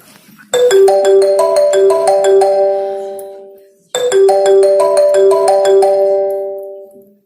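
A melodic phone ringtone plays a bright rising chime phrase twice in a row, loud and clear, each pass fading before the next, during a school-themed Teacher's Day comedy skit.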